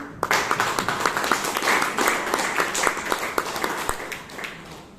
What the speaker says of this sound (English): So give them a round of applause for the tag team.